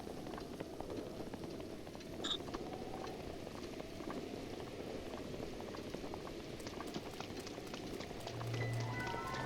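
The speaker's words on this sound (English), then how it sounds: "It's raining again." Steady rain patters and hisses without a break in the Zelda: Breath of the Wild video game, a soft, even wash of falling water with no voices over it.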